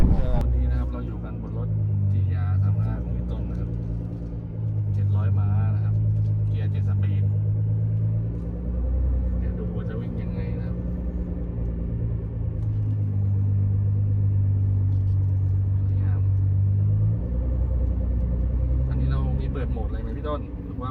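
Nissan GT-R R35 with a VR38DETT engine tuned to around 700 horsepower, automatic with all-wheel drive, heard from inside during a ride as a steady low engine rumble with people talking throughout.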